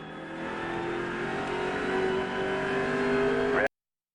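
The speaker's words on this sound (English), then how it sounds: "Race car's off, be ready." A NASCAR Cup Series race car at the 2006 California race accelerates hard, its engine note climbing steadily and growing louder for several seconds before the sound cuts off abruptly.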